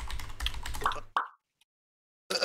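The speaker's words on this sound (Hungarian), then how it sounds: "Tudom gépelni!" Quick clattering keystrokes on a computer keyboard, a dense burst of close taps that stops after about a second, followed by a lone click and silence.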